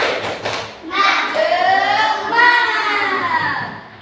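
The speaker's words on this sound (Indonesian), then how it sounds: "Tepuk semangat versi 2" A third-grade class does a rhythmic clapping chant in a classroom, young voices chanting together in a sing-song pattern over thumping, patterned hand claps, fairly close and loud.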